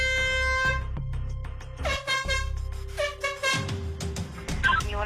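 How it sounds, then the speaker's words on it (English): An air horn blown repeatedly by a man in a bunny suit standing in a police station lobby: loud, sustained honking blasts, several in a row with short gaps, close and piercing. "blowing an air horn repeatedly"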